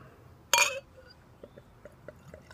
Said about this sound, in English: All right, it's pouring out a golden color.